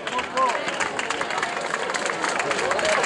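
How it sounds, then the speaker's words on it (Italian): Audience at a small-town talent show applauds as contestant number seven is called to the stage, a steady patter of claps with crowd murmur mixed in throughout. "Un bel applauso a Gianluca."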